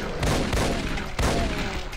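Shotgun blasts in the Doom video game, Complex Doom UAC Ultra mod: two loud, booming shots about a second apart, each with a sharp crack and a rumbling tail, with no talk over them.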